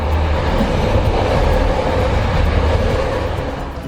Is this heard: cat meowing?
no